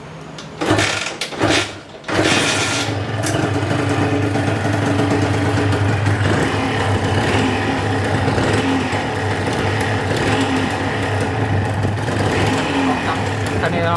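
A Honda NSR 150 RR two-stroke motorcycle, a quiet-running engine, starting after a few rough bursts and then idling steadily with a buzzy, slightly raised throttle; someone talks briefly near the start.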